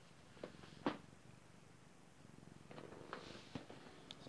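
A close, quiet cat purr rumbles softly and continuously for a few seconds, with small faint bumps and movement noises around it.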